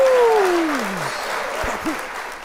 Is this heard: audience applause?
yes